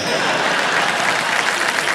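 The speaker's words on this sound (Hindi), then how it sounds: "और इनकी तालियों की गूंज जो है ना" Studio audience applause on the KBC quiz show stage, a loud, sustained roar of many hands clapping evenly throughout with a faint murmur of voices beneath.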